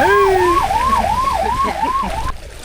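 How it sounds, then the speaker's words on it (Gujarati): An ambulance siren wails, rising and falling in steady repeated sweeps, loud and close, with road noise underneath, on a flooded village road during monsoon rain, cutting off abruptly near the end. "આ એક સામે એક એમ્બ્યુલન્સ પણ આવી રહી છે જે ગામ તરફ આવી રહી છે"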